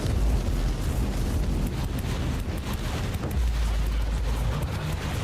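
Grenade blasts in the video game Warhammer 40K: Inquisitor - Martyr merge into a loud, continuous, rumbling roar that never settles into separate booms.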